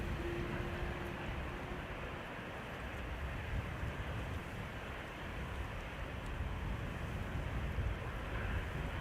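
An airliner departs Schiphol's Polderbaan runway 36L, producing a steady, fairly faint broadband jet roar. Wind buffets the microphone, and no voices are heard.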